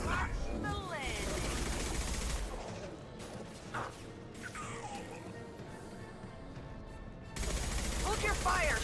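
Dense gunfire in Mass Effect 2 rattles in loud clustered bursts amid crashes and mechanical clatter, with game voices speaking through the action.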